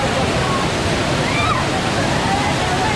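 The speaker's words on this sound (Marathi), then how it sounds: "खूप भारी पाऊस झाल्यामुळे ना तिथं धबधब्याला जास्तीचा जोर आलेला आहे" A waterfall swollen by heavy rain roars in a dense, steady rush of water, loud and constant from start to finish. Voices can be heard faintly under the noise.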